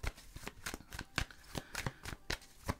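Tarot cards being shuffled by hand in a steady run of crisp riffling flicks and soft slaps, close and fairly quiet, with no voices.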